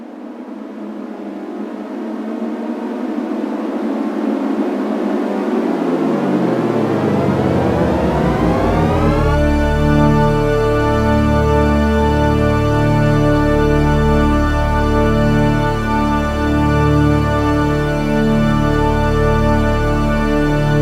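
A synthesized recreation of a famous sound logo tuned in just intonation: a swirling cluster of tones slowly glides and converges into a huge, sustained, loud chord that swells and holds, with no voices.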